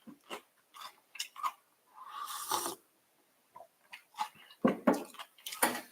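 Someone bites and chews a crunchy, light American pretzel up close, with irregular bursts of crunching separated by short pauses.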